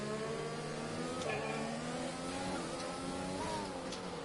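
F1 cars racing at the Circuit of the Americas in a video game, a steady engine whine with rising and falling pitch as cars accelerate, fairly quiet and continuous without talk.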